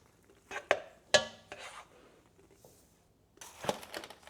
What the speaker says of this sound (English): So now we can add the marshmallows and then the crispy rice cereal. Give that a stir.